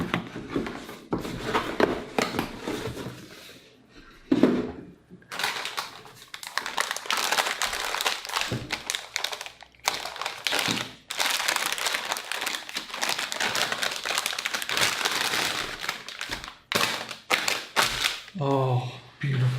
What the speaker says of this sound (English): let's get that foil off so you can actually get a proper look at this card